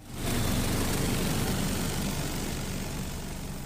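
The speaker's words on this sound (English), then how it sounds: "it detached from the central shaft of the plane's engine and was rattling around against the fan" A passenger jet's engine, its nose cone detached from the central shaft and loose against the fan, roars loud and steady in flight as a dense, unbroken drone.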